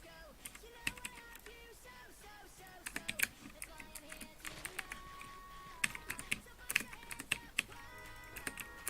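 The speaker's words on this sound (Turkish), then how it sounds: "yeni klavyem Motosplit CK107" A Motosplit CK107 computer keyboard being typed on up close, a busy run of crisp clicky keystrokes in uneven bursts with occasional louder key hits, continuing for several seconds without speech.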